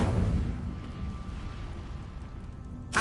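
A fiery spell burst from the Incendio charm in a Harry Potter game erupts as a low, sustained rumbling roar that fades slightly, then flares again with a short bright crackle at the end.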